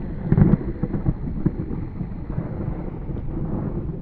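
Thunder rolling during a lightning storm with tornado-warned cells, a loud low crack near the start that trails into a long rumble, with wind buffeting the microphone.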